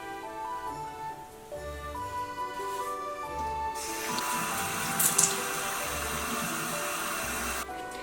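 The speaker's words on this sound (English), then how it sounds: "I'm gonna go in with my regular cleanser and will wash my face" A bathroom sink tap runs while a face is washed with cleanser: a soft rush of water starts midway and flows steadily with splashing, close by and fairly quiet, before stopping.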